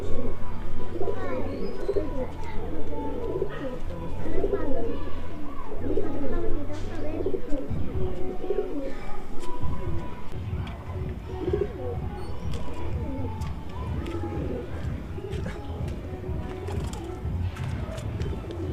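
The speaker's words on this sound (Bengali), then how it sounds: "কবুতরটা আমাদের ছাদের উপরে নেমে পড়েছে" Pigeon coos sound in repeated soft, low phrases on a rooftop outdoors, with other birds chirping in the background and a steady ambient hum.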